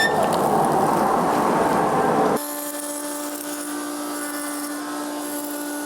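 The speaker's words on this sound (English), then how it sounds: "my dust extraction on this router's not working too well" A wood router with poorly working dust extraction, used while wrapping a door core, roars loudly at close range for a couple of seconds, then gives way to a steady, even whine.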